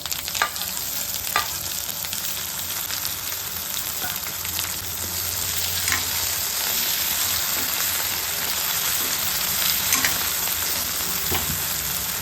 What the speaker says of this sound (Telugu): ముందుగా ఫ్రై చేసి పెట్టుకున్న పచ్చిరేలు ఫ్రై వేస్తున్నానండి ఇప్పుడు